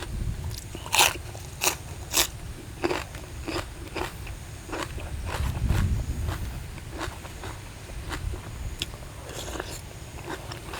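Crunchy bitter melon eaten with a fresh shrimp salad: close, repeated sharp crunching bites and chewing at an uneven rhythm, fairly quiet, with no talk over it.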